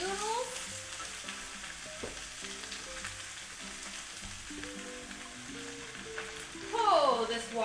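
Rice noodles for Thai drunken noodles stir-fried in a wok, a steady loud sizzle with scraping and tossing strokes throughout, swelling into a sharper hiss near the end as more is added.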